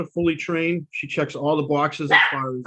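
Dogs barking and yipping at a town board of selectmen meeting, several short repeated barks close by, heard mixed under a person speaking continuously.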